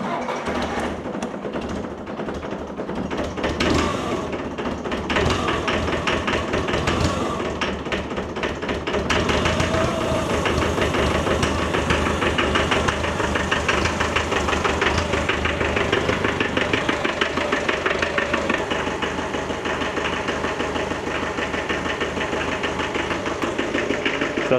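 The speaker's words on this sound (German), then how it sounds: "Dann kann er mal ein bisschen im Stand tuckern." A McCormick D430 tractor engine idles at standstill, a steady close knocking chug that settles into an even rhythm after some louder clatter at the start.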